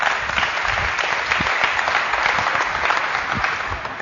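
An audience at a basketball shooting drills session applauds a player, a full, continuous round of clapping close by that stays steady and tapers slightly at the end.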